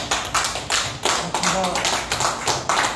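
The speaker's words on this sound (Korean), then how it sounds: "박수로 모시겠습니다." An audience at a Korean community gathering in Incheon claps to welcome a council chairman, bursts of clapping mixed with a voice talking over them.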